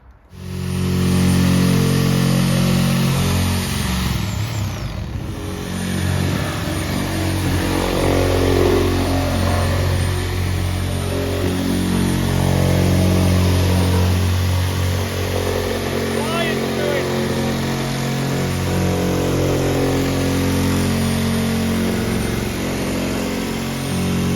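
A grinder works on a metal part of a pig house on a smallholding, giving a loud, continuous motorised whine and roar that holds steady for over twenty seconds after a short quiet start.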